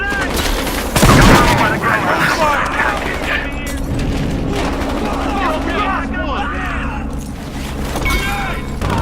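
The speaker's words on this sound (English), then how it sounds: "that's a grenade!" A grenade in Battlefield Hardline goes off as a loud, close burst about a second in, set amid steady gunfire and game noise, with voices shouting over the action.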